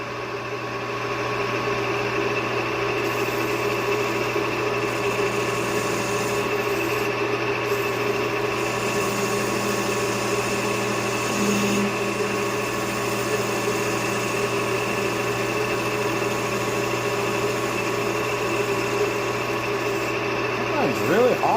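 A piston ring is trimmed on a ring-filing tool, producing a steady, even mechanical whine and hum that runs continuously at close range for over twenty seconds.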